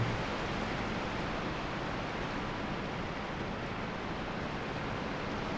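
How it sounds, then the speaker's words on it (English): Loud, steady rushing water fills a level of the video game Dark Souls 2, a dense continuous roar like a waterfall with no pauses and no talk over it. "It's kind of loud now due to the water"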